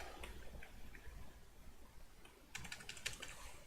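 Quiet typing on a computer keyboard, with scattered soft keystrokes followed by a denser, quicker burst of clicks.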